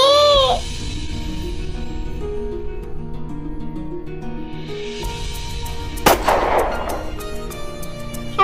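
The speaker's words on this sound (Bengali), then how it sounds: "সাথে সাথে আরো একটা গুলির শব্দ হলো।" A gunshot effect in a dramatized mafia audio story: one sharp, loud crack with a brief noisy tail, set against a steady underlying music bed, with no voices.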